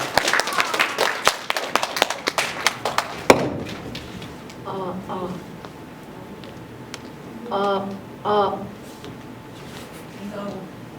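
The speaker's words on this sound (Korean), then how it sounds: "정승원, 정기영 학생을 박수로 맞이해 주시기 바랍니다" Audience at a student humanities class presentation claps briefly to welcome two student presenters, a short burst of sharp, scattered hand claps that fades quickly, followed by quiet room noise and talking.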